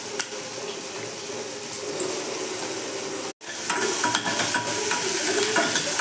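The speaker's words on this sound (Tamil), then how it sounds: "எண்ணெய் ஊற்றிக்கிட்டு கட் பண்ண பஜ்ஜி மிளகாயை இதில் போட்டு அப்படியே நல்லா வதக்கிக்கலாம்." Chopped bajji chillies sautéing in hot oil in a pan, a steady close sizzle with stirring scrapes throughout, briefly cut off for a moment midway before resuming.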